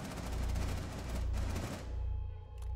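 Rapid sidearm gunfire in a shooter video game, loud dense bursts of shots for about two seconds before cutting off, with a faint tail afterward.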